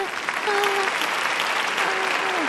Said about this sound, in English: We need the claps.